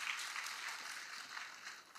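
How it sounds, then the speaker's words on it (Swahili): An audience at an outdoor security forum in Siaya applauds, a steady dense wash of clapping from many hands, fairly distant and soft, continuing evenly for the whole stretch. "Tujifikie makofi."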